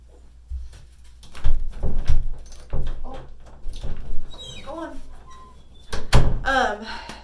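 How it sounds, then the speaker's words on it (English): A house door opens to let a dog out, giving a few dull thunks and a knock against ongoing talk from a woman nearby, with a brief squeak near the end. "my husband just got home and Potato's looking at the door"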